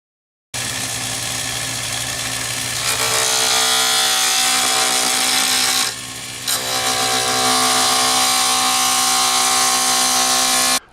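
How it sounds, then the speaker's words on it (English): A roughing gouge cuts a faux stone pen blank spinning on a lathe, a loud continuous harsh scraping whine over the motor hum that briefly dips in the middle before resuming. "we're going to start off with several different tools, one of which is going to be the roughing gouge."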